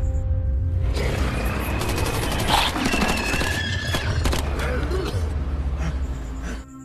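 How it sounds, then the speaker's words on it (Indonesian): Gunfire erupts in a film scene as a man shoots at a parasite creature, a dense burst of sharp cracks and booms over a loud rumbling, chaotic soundtrack lasting several seconds. "Ia lalu menembaki parasit tersebut"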